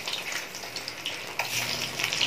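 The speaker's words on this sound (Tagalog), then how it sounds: "Kailangan guys, lubog sa mantika yung saging." Banana pieces fry fully submerged in hot cooking oil, giving a steady, close hiss and crackle that runs unbroken with small bubbling pops throughout.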